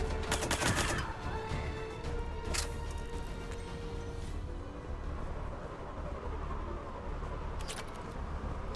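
A Phantom enemy fires on the player in the Mass Effect video game, giving a sharp burst of shots at the start, more isolated cracks later and a low game rumble underneath.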